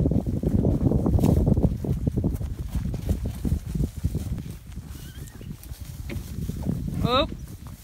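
A mule's hooves clop in an irregular rhythm on the ground while a rider is carried along, herding cattle in a pasture, with wind noise and a brief sharp call near the end.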